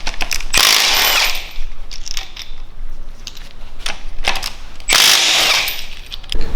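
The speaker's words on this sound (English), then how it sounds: "now I'm going to remove the both bolts for the both balance shafts." Balance shaft bolts come off a BMW N47 diesel engine with a power tool, two loud whirring bursts of rattling ratchet noise separated by quieter clicking and handling sounds at close range.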